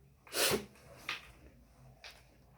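One sharp, forceful cough or sneeze-like burst up close, followed by two smaller breathy huffs, with quiet in between.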